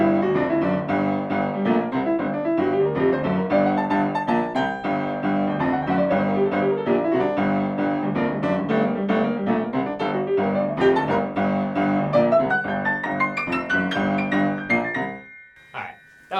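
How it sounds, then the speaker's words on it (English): Piano plays flowing melodic minor scale lines over chords, a dense, continuous run of notes that stops abruptly near the end, solo with no talking. "And then one other scale that I use quite a bit on this song is the melodic minor scale"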